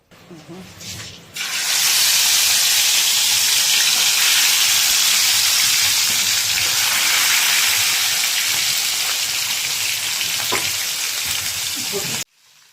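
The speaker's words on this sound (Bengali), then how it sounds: "এবারে মাছের পিসগুলোকে এক এক করে ভেজে" Pieces of rohu fish drop into hot mustard oil in a non-stick pan and set off a loud, steady, hissing sizzle that continues close up for about ten seconds after a brief quieter start, then stops abruptly.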